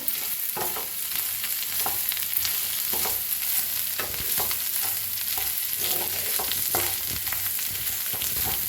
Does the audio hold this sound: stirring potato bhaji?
yes